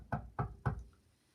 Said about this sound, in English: that knock on the door's muddled me